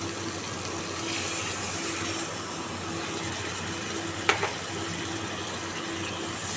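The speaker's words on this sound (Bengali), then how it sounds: "এবার এর মধ্যে আমি জল দিয়ে দিচ্ছি" Water runs steadily into a pan of potatoes and spice masala for fish kalia, a soft, even gush with a brief clink partway through.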